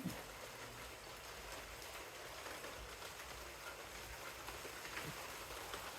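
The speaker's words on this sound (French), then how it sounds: "il pleut fort d'un coup. Avec l'orage et tout." Downpour during a violent thunderstorm with wind, a continuous broadband wash of rain hitting surfaces, steady and fairly loud throughout, no speech.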